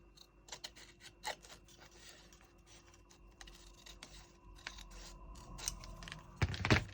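Sporadic snips and crisp cutting clicks from large, chunky scissors cutting diamond art kit materials, close and quiet, growing busier with a louder rustle near the end.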